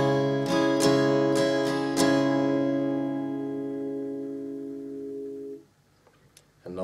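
Acoustic guitar strummed openly without muting, five bright strums in quick succession, then a full chord left ringing for several seconds before being cut off, close and fairly quiet, with no talking.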